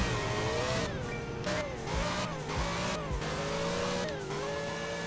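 A Corvette C6 ZR1 drag-racing a C7 in a Roblox racing game: a loud, steady engine roar climbing in pitch through repeated gear shifts, each upshift marked by a brief drop before the revs rise again.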